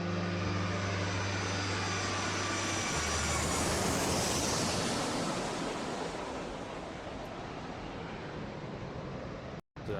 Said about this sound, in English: as the aircraft powers through the clouds